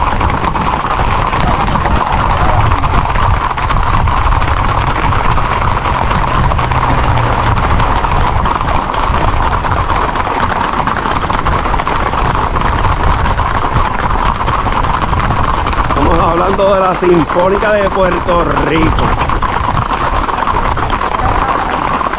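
Horse hooves clip-clop steadily on a Puerto Rican road, a continuous loud rhythm of hoofbeats with music and a brief voice mixed in.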